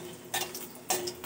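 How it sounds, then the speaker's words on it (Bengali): Whole cumin seeds and halved dried red chillies stirred in hot oil in a pan, a soft background sizzle broken by two or three brief scraping stirs, faint and close. "একটু নেড়ে নেব।"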